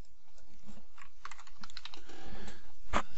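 A name is typed on a computer keyboard in quick uneven bursts of close, crisp key clicks, and one sharper keystroke comes near the end.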